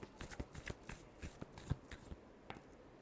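Tarot cards riffled and shuffled by hand in a rapid series of soft, papery flicks and snaps, close and quiet, with no talking.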